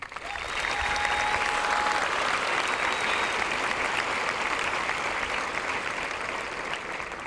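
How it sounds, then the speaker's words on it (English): Audience applause at a university welcome ceremony for newcomers: a steady, dense wash of many hands clapping for the full stretch, fairly loud and continuous with a faint whistle near the start. "we want to give a round of applause to him."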